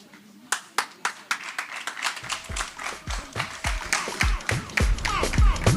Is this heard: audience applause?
yes